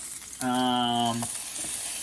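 An elk tomahawk steak sizzles steadily in a frying pan throughout, a soft hiss under a short, steady humming tone in the middle.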